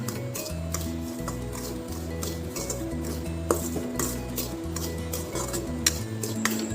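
Grated packaged coconut and semolina (suji) being stirred and fried in a pan for rava laddu, with a steady run of metal-on-pan scrapes and light clinks over background music.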